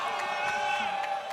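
A large esports arena crowd at a Rocket League championship major roars and cheers loudly and continuously, with whoops rising out of the dense wall of noise.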